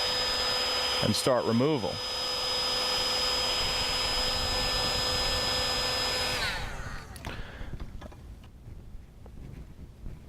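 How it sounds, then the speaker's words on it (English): A heat gun on medium setting blows a loud steady whirring hiss while warming a decal on a min-till drill, then cuts off, leaving quieter handling noises; a person briefly speaks early on. "we've got a heat gun here"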